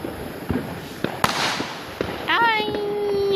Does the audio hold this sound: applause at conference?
no